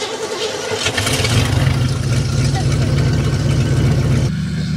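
A 1981 Pontiac Bonneville Safari, abandoned on an island, cranks and fires up. The engine then settles into a steady, loud, close-up running hum until it cuts off near the end, with voices in the background.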